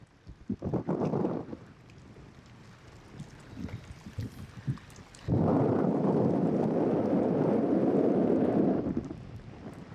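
Strong wind gusting near Columbia Glacier in Alaska, roaring broadband across a boat cruising through floating ice, with a sustained heavy buffeting burst dominating the second half after quieter rumbling gusts.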